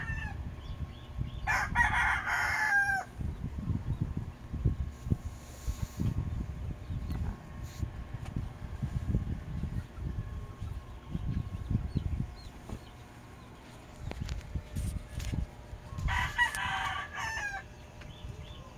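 A gamecock stag rooster crows twice, each call fairly loud and clear and a few seconds long, over continuous nearby clucking and farmyard rustling.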